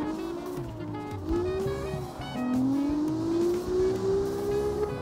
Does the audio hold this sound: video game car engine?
yes